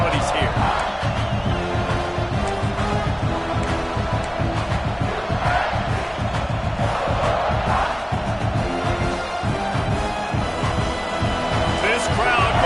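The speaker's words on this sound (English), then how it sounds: "This crowd going to try to make life miserable for these guys." A packed American football stadium crowd roars continuously, a loud sustained wall of cheering and yelling with swells, while a play-by-play commentator talks over it.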